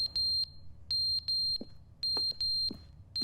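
A smoke alarm in the video game The Stanley Parable emits piercing paired electronic beeps at a steady rhythm, close and prominent, with faint clicks between the pairs.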